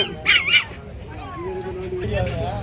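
A dog gives a couple of quick high yips and barks, followed by whiny noises, while people talk nearby at a weekly animal market in Pallavaram, Tamil Nadu.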